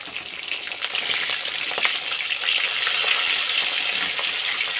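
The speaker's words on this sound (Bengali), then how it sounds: "এখন এই মাছগুলোকেও দু পিস ভালো করে ভেজে নেব মাছের একটা সাইড ভাজা হয়ে গেছে" Pieces of mrigal fish fry in a pan, giving a continuous close, bright sizzle with faint bubbling and small crackles throughout. No one speaks.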